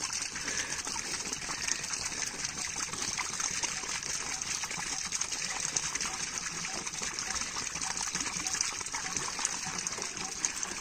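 Water gushing steadily into a homemade lotus tank, a continuous bright pouring rush with trickling and splashing, constant and close throughout.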